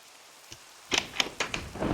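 Minecraft thunderstorm with rain, heard as a quiet start followed by several sharp crackling bursts and a rising hiss of rainfall, moderately loud with no talking.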